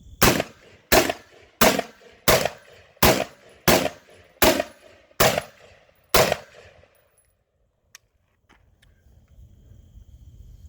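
A Gilboa double-barrel AR-15 rifle fires about nine loud, evenly spaced shots in quick succession, each with a short echoing tail, followed by near silence and a few faint clicks and rustles.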